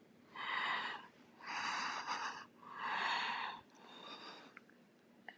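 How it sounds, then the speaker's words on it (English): Creepy heavy breathing comes over a phone line: four long, loud, breathy exhalations in a slow rhythm, each swelling and fading, with the last one softer. "It was your typical creepy breathing on the other line."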